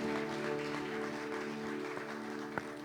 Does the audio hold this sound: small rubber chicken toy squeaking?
no